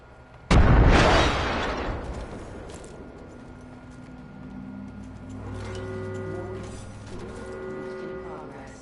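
A frag grenade explodes in Apex Legends, a single loud close blast that decays slowly into a rumbling tail, followed by faint game tones and ambience.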